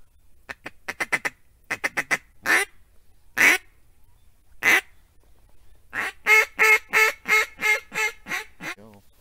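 Wood ducks call in a series of sharp squealing notes, first in quick clusters and then in a longer rhythmic run, loud and close in a quiet early-morning duck-hunting setting.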